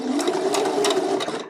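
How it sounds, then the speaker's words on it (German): A sewing machine stitches fabric in a steady, continuous mechanical whir with rapid needle rattle, close and loud, running alone for over a second before cutting off. "Dann fange ich an zu nähen"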